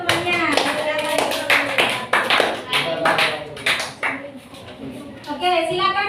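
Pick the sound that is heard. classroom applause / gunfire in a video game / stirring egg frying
classroom applause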